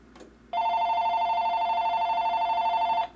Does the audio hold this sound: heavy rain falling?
no